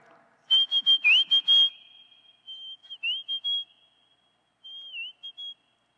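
Whistled mimicry of rufous sibia calls: a strong run of quick high notes ending in a gliding held tone, then a softer answering phrase and a faint third one, spaced by brief silences with no talk.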